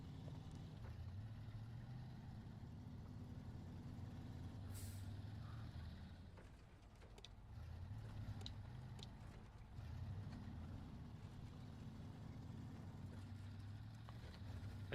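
A truck in SnowRunner rumbles along at low volume with a pulsing engine drone, broken by brief sharp hisses and clicks like air brakes, faint and continuous across the stretch, without speech.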